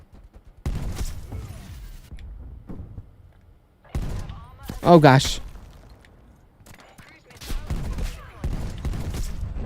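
Bursts of hand cannon fire and other gunshots ring out in a Black Ops Cold War match, loud sharp reports in several clusters spread across the span, with a player talking briefly over the action.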